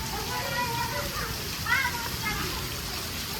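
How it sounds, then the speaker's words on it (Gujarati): Heavy rain in a Banaskantha village pours down with wind, giving a steady dense hiss and splatter of water on surfaces. It holds throughout, near and fairly loud, with faint voices underneath. "અત્યારે વરસાદ બહુ છે, સખત વરસાદ છે."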